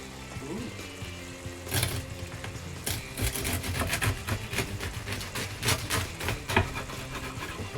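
A serrated bread knife sawing through a freshly baked homemade loaf, producing repeated rasping strokes in a quick rhythm that grow busier after the opening seconds, with some faint speech in the background.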